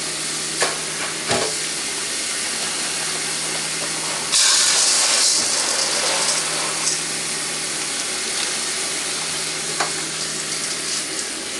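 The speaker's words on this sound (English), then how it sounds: "get your hands in it, stir it around, try to make as little of it go over the top as possible" Aquarium gravel being stirred by hand in water gives a continuous wet, gritty swishing and hiss, close and fairly loud, with a few sharper splashes and a brief louder surge partway through; no speech.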